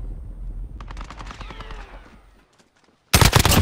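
Gunfire in a Call of Duty Modern Warfare team deathmatch, a close, loud, dense burst of shots that cuts in sharply at the end after a quieter stretch of game noise and brief voice fragments.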